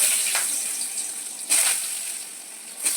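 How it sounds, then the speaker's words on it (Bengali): Potato pieces fry in hot oil in a kadai seasoned with bay leaf and dried chilli, giving a steady, moderately loud sizzling hiss with a few brief surges. "দিয়ে একটু খুব ভালো করে আলুটা ভেজে নেব"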